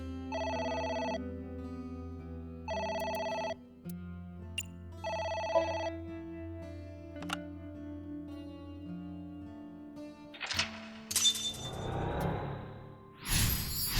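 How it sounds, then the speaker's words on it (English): A telephone rings three times in even bursts within the video game AI: The Somnium Files, followed by game whooshes and a brief shatter-like effect, with no talking. "Oh, It's the phone."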